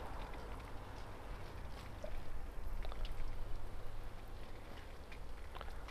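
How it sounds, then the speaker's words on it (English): Soft, steady patter of water sprinkling from a watering can onto the leaves of a dwarf jade plant, a continuous fine hiss that swells slightly in the middle, close by. "so I'm going to show you the watering with this can"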